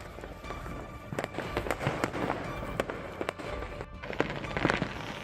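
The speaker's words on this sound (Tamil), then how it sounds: "புதுச்சேரியில் மாலை முதல் இரவு வரை பட்டாசுகள் வெடிக்கப்பட்டதால்" Diwali firecrackers pop and crackle at night in Puducherry in rapid, irregular bursts, some sharp and close, others distant, over a faint background rumble.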